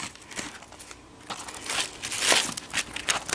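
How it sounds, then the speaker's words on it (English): Asphalt roof shingles cut by hand while installing a skylight, producing close crinkling, scraping and tearing sounds in irregular bursts that grow louder toward the end, with no voices. "These shingles here, they hard to cut. And I'm gonna cut it out right here."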